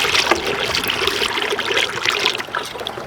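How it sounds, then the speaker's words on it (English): Liquid mixture poured slowly through a funnel into a backpack sprayer, a close, continuous trickling and splashing stream with small fluctuations. "I'm going to start adding the mixture. Slowly pour it in"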